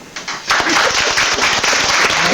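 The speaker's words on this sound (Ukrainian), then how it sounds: "Оплески." An audience at a romance-song evening breaks into applause, a few early claps swelling quickly into steady, fairly loud clapping that carries on to the end.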